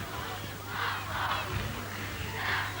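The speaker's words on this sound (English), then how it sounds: "The crowd's chanting" A crowd chanting at the 1984 senior county football final between Knockmore and Lacken, a distant, rising and falling swell of voices over a steady low hum.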